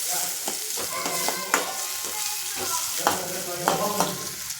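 Chopped onions sizzle in hot oil in a pan for spicy pasta, with a continuous bright frying hiss broken by repeated scraping and clinking strokes of a spoon stirring them.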